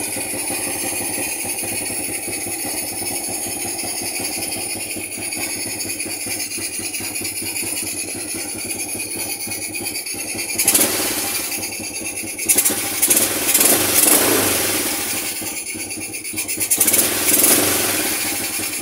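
A motorcycle engine idles steadily while its air-fuel mixture is tuned, then gets blipped in several short revs toward the end, close and fairly loud with no talking.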